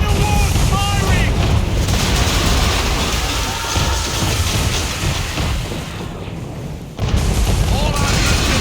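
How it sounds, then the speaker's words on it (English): Cannon fire from a man-of-war warship in Assassin's Creed 3 naval combat, heavy booms and a thick rumbling roar filling most of the stretch, loud and sustained with a brief dip near the end, voices faintly underneath. "Man of war's firing!"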